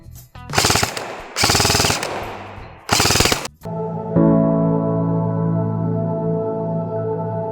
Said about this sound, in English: let me fire a few rounds and show a quick demo of what's going on